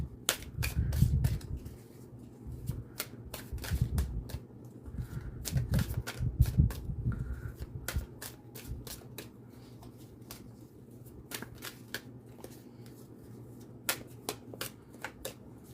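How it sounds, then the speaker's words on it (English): Tarot cards being shuffled hard in repeated bursts of crisp riffling and sharp snaps, close up, with quieter gaps between rounds. "I'm gonna do one last hard shuffle"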